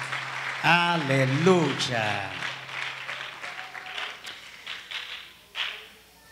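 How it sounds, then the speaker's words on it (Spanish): A church congregation at an anniversary service applauds, a continuous patter of clapping running under a loud voice that calls out over it. "Así que denle fuerte ese aplauso al Señor."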